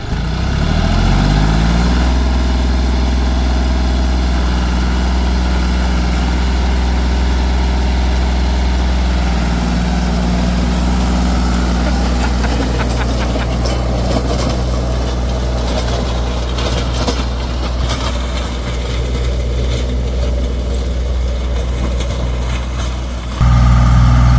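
A farm tractor fitted with a rotavator runs close by, its engine throbbing with a loud, steady low rumble that revs up briefly at the start and holds a constant idle throughout.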